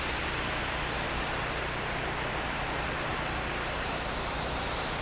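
Pressurised water spray washes house siding and a vinyl soffit overhead, a loud, steady, unbroken hiss that stays constant throughout with no speech.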